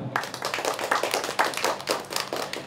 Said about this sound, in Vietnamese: Xin cho một tràng vỗ tay.